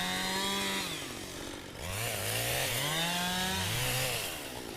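A Stihl-type 550 chainsaw bucking logs in the woods, engine revving up and bogging down repeatedly with wavering pitch as it labors through the cut, loud and close.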